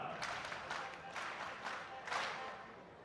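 Applause rises from a crowd at a political party election event, a sustained wash of clapping with several swelling bursts, moderately distant and steady throughout.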